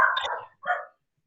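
A dog gives two quick barks close to the microphone during an online webinar, a louder first bark followed by a shorter second, then silence.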